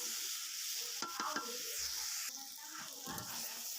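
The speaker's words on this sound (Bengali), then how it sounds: "আর এই যে এখন ভাজি করে নেব" Pumpkin frying in a pan gives a continuous sizzle, with several quick stirring scrapes and clicks near the start and end, close and moderately loud.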